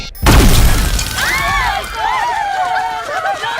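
A sudden loud blast from an action film opens the clip, followed by a rumbling crash that fades under a sustained noisy wash, with tonal screeching sounds trailing afterwards.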